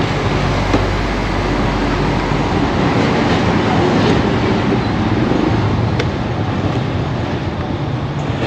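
A train rumbles steadily past at close range, a constant loud roar of wheels and carriages with faint clacking.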